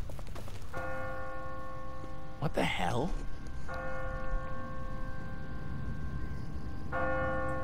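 Church bell tolling in The Walking Dead video game, sustained ringing strikes at a distance with pauses between, while someone speaks briefly over the game's ambience.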